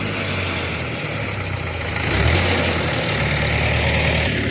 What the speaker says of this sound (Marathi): हा तिसरा ट्रॅक्टर आणलाय